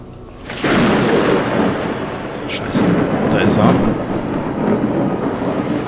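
Thunder crashing during a lightning storm in the game Obscuritas, a loud sustained rumble with heavy rain hiss underneath and a second swell of rolling thunder midway.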